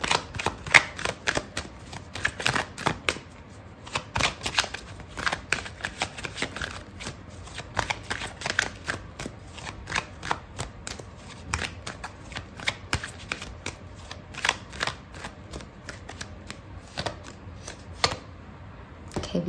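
Tarot cards being shuffled and drawn by hand, a long run of quick, close, crisp riffling flutters and soft slaps in uneven bursts, no speech over them.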